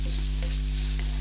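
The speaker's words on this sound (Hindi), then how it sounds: "पहले मैं इसे तकरीबन 2 मिनट इसे फ्राई करूँगी" Vegetables sizzling steadily in a frying pan over a steady hum, with a few faint stirring scrapes, close and even.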